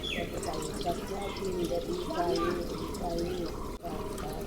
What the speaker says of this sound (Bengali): চালগুলো ধুয়ে নিতেছি আমি।